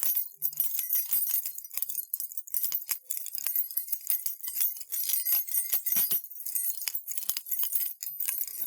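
Keys jangled close and softly in an ASMR setting, a steady run of bright metallic clinks and chinks with small irregular bursts, no voices over it.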